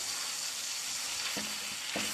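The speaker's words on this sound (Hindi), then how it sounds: "अब हम इसको भून लेते हैं।" Mutton liver frying on a tawa gives a soft, steady sizzle throughout, with a couple of brief clinks or scrapes near the end; fairly quiet, no talking.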